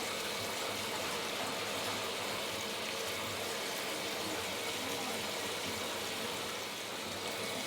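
A tie-dyed shirt is rinsed under running water, a steady, continuous rushing flow that stays even and close throughout with no pauses.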